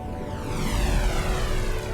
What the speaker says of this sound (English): That had like a fighter jet sound effect to it.